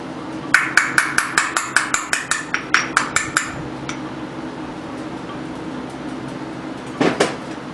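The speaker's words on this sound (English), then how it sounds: "so I'll knock it out with a punch" Sharp metal-on-metal hammer blows drive a pin out with a small, tight-fitting punch during a Little Blazer build, about fifteen quick strikes in an uneven rhythm over three seconds, then a pause and a final double tap.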